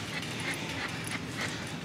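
An anxious pet dog whimpers softly in short, repeated whines while out on a walk around town, the thin cries close by over steady outdoor background noise.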